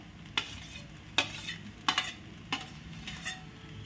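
Sabudana khichdi with added potato being stirred in a pan: about six quiet, evenly spaced spatula scrapes against the metal over a faint low sizzle, with no voices.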